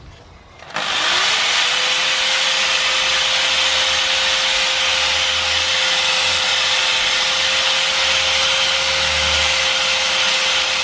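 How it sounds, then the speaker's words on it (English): Sandpaper works the subframe bushing bore of a BMW E60 during a polyurethane bushing install, giving a loud, steady, unbroken whirring grind that starts abruptly and runs on without pause. "so I just need to give this a good clean up with some sandpaper"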